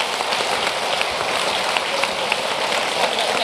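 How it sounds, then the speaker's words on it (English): Audience at a Drupal conference closing session applauding, a dense, even wash of many hands clapping that stays steady for about three and a half seconds with no voices. "let's give a round of applause for the camps that are still coming up"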